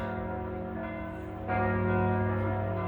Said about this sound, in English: I'm not quite sure why they're having such an extensive tolling right now